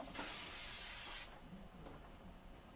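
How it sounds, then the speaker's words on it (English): Dytrans Pro Spray adhesive misted onto a sublimation print, a steady close aerosol hiss for over a second, then a weaker continuing spray. "I'm actually going to spray my print right now and get it ready to go"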